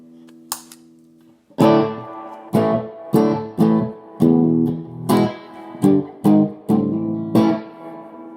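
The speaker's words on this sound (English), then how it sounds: "Clean channel. Dry." Clean, dry electric guitar chords through the clean channel of a MESA Rectoverb amp, picked one at a time with short pauses between, bright and close, each ringing briefly before fading.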